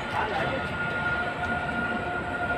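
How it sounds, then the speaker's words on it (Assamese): A train running along a riverside line near Baihata Chariali, its steady broadband rumble and rail noise continuous and moderately loud in the open air. "ইয়াতে এই ট্ৰেইন যাই আছে"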